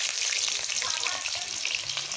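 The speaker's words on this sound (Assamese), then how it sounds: "ইয়াতে পিঁয়াজ দি দিছোঁ পিঁয়াজখিনি অলপ ভাজি ল'বলৈ দিম" Onions frying in hot oil in a kadai for a pork dinner, a bright continuous close-up sizzle with fine crackles and faint stirring movement.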